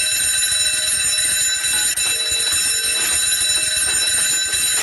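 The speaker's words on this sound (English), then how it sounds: "An alarm." An alarm bell rings continuously and loudly throughout, a harsh sustained metallic ringing with no pauses and no speech over it.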